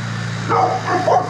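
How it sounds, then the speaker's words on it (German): A large dog gives a few short, deep barks close by, spaced irregularly over about a second. "seine Hunde sind ja schon große Hunde"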